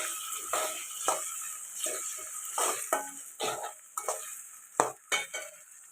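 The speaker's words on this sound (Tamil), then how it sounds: "தக்காளி நல்லா வதங்கட்டும்." Tomato and onion sautéing in a pan for bitter gourd tamarind kuzhambu, a steady sizzle broken by repeated scraping stirs and light clinks of a spoon against the pan, close up with no talking.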